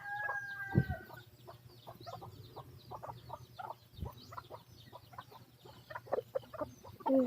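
A wild chicken and bantam chickens cluck in short, repeated bursts at close range, with an occasional louder call over a quiet farmyard background.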